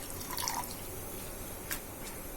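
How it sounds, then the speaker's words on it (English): Fresh coriander leaves are swished in a bowl of water, giving faint close drips and small splashes over a soft constant hiss, with no talking. "So I have put some water in the coriander leaves and I am washing them."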